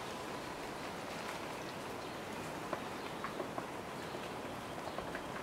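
Rain falls steadily on glossy palm trees and a banana tree outdoors, a dense continuous patter with scattered louder drips close by and no voices.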